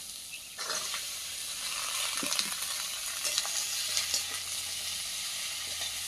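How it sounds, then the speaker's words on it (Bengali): Radish frying in a pan gives a continuous close sizzle and hiss, with a few soft scrapes and knocks from stirring and no voices. "চিংড়ি মাছটা ভাজা হয়ে গেছে এবার মুলোটা দিয়ে দেবো"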